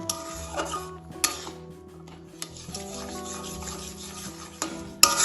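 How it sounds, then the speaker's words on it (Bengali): A spoon stirs semolina into boiling salted water in a pot, giving soft rubbing, scraping strokes against the pot with occasional light clinks, quiet and close, with no talking. "ভালোভাবে সুজিটা জলের সাথে মিশিয়ে নেব"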